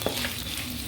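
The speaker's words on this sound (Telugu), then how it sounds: "అవి కూడా కొద్దిగా ఫ్రై అవ్వాలి." Whole spices, cinnamon, cloves, peppercorns and cardamom, fry in a pan for millet and moringa kichidi, giving a steady, close sizzle with light stirring through a short moment.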